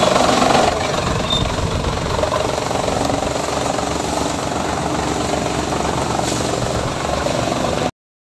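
A farm tractor engine runs steadily at close range, a loud continuous droning rumble with no break and no voices over it.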